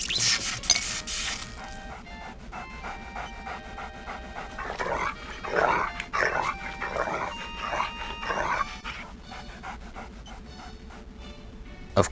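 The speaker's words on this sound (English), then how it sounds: "there's a two-headed dog that plays with the nuclear rods" A two-headed dog in The Simpsons Virtual Springfield PC game pants and breathes rapidly in repeated bursts over a backdrop of game music and ambient tones, fairly close and steady throughout.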